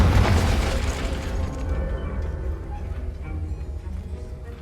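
A Confringo spell explodes in the video game Hogwarts Legacy, a sharp, heavy boom that hits at once and rolls off into a long, fading rumble.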